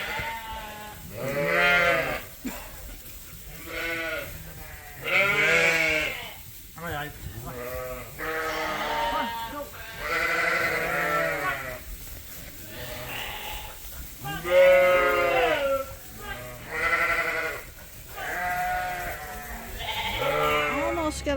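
Replacement ewes bleat almost constantly in a barn on a sheep farm, with many overlapping calls from close by, some loud and some softer. A person speaks now and then beneath the calls.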